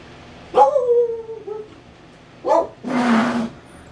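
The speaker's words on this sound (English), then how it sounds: "my dog decided to bark at the neighbors" A pet dog at home barks at the neighbors: three loud, drawn-out, howling barks, close by, with short pauses between them in an otherwise quiet room.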